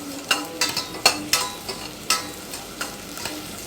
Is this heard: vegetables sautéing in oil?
yes